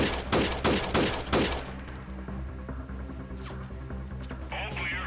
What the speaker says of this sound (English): I'm just blind firing at the moment, just to maybe offer some suppression, a little bit of suppression here